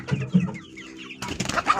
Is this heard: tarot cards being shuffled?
no